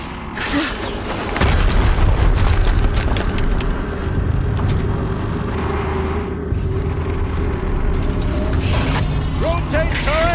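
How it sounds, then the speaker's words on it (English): An explosion in the game Horizon Zero Dawn, at the Maker's End area, hits as a sudden heavy boom. A dense mechanical clatter and rumble follow and persist, and a voice is faintly present. "Another explosion."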